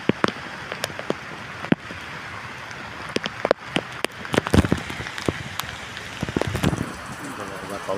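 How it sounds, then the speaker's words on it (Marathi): Heavy rain pours on the Konkan coast by the sea at Vengurla, a dense, steady patter with sharp drip-like clicks and bursts of louder splashing, close to the microphone, with a voice speaking at times. "पाऊस बघा जोरात पडतोय"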